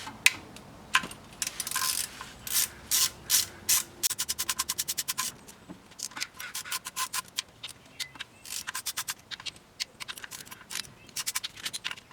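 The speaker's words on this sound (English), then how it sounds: "I'm going to start loosening up the oil pan bolts using a 10 mil." Ratchet with a 10 mm socket loosening the oil pan bolts on an RSX Type S, heard as bursts of rapid close clicking in short repeated runs, loud against a quiet background.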